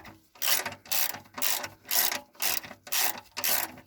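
A hand wrench ratchets in short bursts while loosening the oil sump plug on a car engine during a DIY oil change, about seven rasping clicks in a steady rhythm, close and clear.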